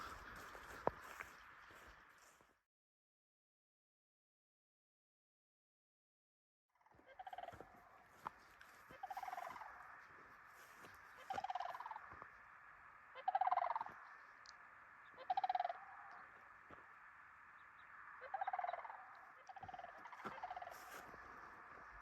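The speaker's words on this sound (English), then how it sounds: "those were sandhill cranes making that call" Sandhill cranes calling outdoors on a trail between Dubois, Wyoming and Yellowstone National Park, rolling rattling bugles repeated in spaced bursts at moderate distance, with a silent gap before a steady series of calls.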